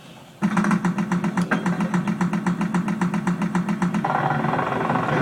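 A tower rotating mechanism in the realMYST video game grinds along as a steady mechanical whir with a rapid, regular clatter. It carries on loud and continuous after a sudden start, and its tone shifts near the end.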